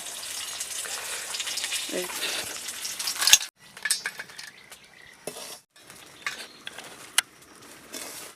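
Potato chips fry in hot salt in place of oil, producing a rustling, crackling sizzle that breaks into intermittent bursts of scraping, stirring and metallic clinks as the chips are moved and lifted.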